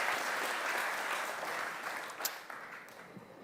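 An audience at a panel discussion applauds, a steady wash of clapping from a moderately distant crowd that thins out toward the end.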